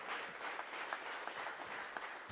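A congregation in church applauds, giving a short, steady burst of many hands clapping together, heard at moderate distance without voices over it.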